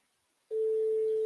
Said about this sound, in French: et ça sonne et même mon téléphone il sonne avec ce numéro-là